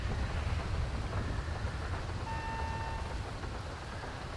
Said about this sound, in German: Alter, jetzt aber noch ein Gewitter.